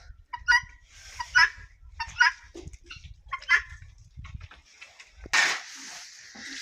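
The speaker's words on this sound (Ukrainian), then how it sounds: "курочка несеться біля нього" A laying hen in a barn gives repeated short clucks and squawks at a few-second intervals, followed by a louder, harsher burst near the end, close by and with no talk.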